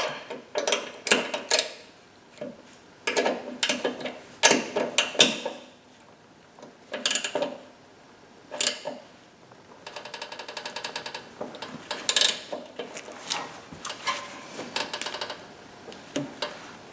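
Two wrenches, a 13 mm below and a 9/16 above, work a stubborn tie rod nut on a Toro garden tractor's steering, giving bursts of close metallic clicks, ratcheting and scraping separated by short pauses.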